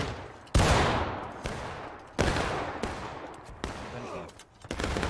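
Loud, close bursts of gunfire in a multiplayer video game battle come as sharp, separate volleys, each fading into rattling echoes, with faint talk in the gaps.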